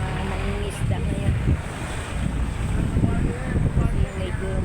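Rough sea waves wash against the shore beside a seaside highway, a continuous roar of surf mixed with gusty wind buffeting the microphone.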